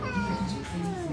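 A large domestic cat gives a drawn-out meow with a falling, wavering pitch, close and fairly clear, alone without talk.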